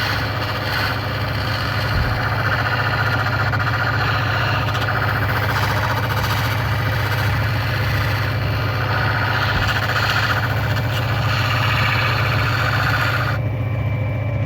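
A lapidary grinding wheel running with water while cutting black opal gives a steady, loud motor drone with a constant low hum throughout, and no voices over it.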